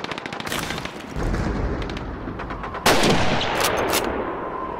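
A sniper rifle fires in the Soviet campaign of the video game Call of Duty 2: loud, sharp gunshots ring out over ongoing battle noise, with a heavy report near the middle and several more cracks after it.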